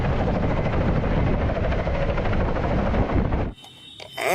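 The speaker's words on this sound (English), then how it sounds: "Wow, very big size helicopter," A large helicopter roars loud and close with steady broadband rotor and engine noise, then cuts off abruptly near the end, leaving faint background sound.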